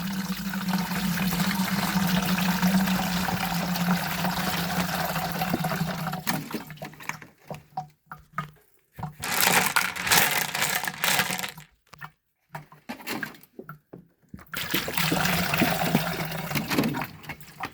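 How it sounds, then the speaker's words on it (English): Water rinses over tumbled rocks, with several seconds of steady running flow, then broken splashes and sloshing with short quiet gaps before the flow resumes. "now we'll rinse them off with a little bit of water"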